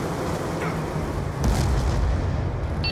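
A Warthog air strike pounds the Black Ops 2 Slums map with loud continuous explosive booms and rumbling blasts that swell in the second half, with no voices over them.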